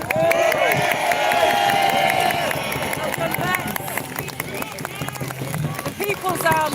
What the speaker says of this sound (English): can we have a round of applause for our vets?